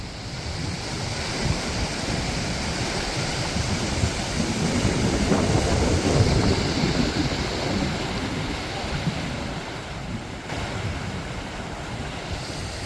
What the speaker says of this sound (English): Looks like Beaver Dam making a pretty nice waterfall up there.